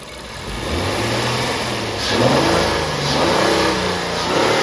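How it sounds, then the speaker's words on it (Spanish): A Honda Pilot being checked for a coolant leak has its engine revved from idle, rising into a mid-pitched roar in several swelling pushes, heard close and loud with no talking. "Ahí ya le está acelerando."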